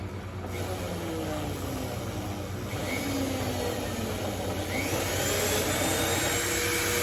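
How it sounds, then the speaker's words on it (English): An oval carbide burr grinds inside a shofar horn to enlarge the bore, giving a steady, close, loud whirring drone with a low hum running continuously throughout. "Now I'm going to enlarge it further using this oval carbide burr."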